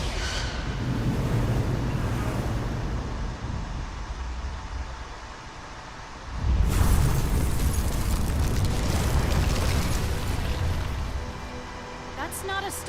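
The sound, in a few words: weapons fire and explosions in Star Trek video game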